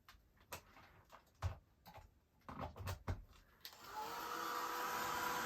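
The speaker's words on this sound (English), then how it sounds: "I'm just going to dry this card a little" A heat tool starts up partway through and runs as a steady loud whoosh while drying ink on a papercraft card, following a few faint ticks and handling noises.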